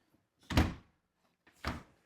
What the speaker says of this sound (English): Make sure the door closes good.